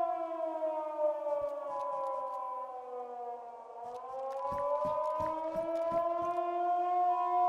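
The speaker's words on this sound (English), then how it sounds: "What is that siren?" A wailing air raid siren in the video game DayZ drones steadily, its pitch sagging and rising again, while several sharp thuds and bangs break in during the second half.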